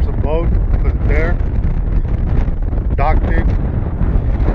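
Blustery wind rumbles into the microphone outdoors at a boat launch while a person talks over it in short bursts.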